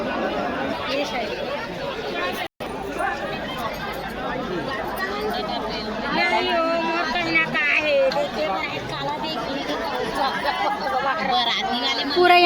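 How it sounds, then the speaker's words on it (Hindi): Dense crowd of devotees packed together at the Kawardha Khappar darshan festival for Maa Kali in Chhattisgarh, a loud continuous babble of many voices with a brief dropout early on. "पूरा यहाँ पे देख सकते हो भक्तजन मन भारी भीड़ बन चुके हैं।"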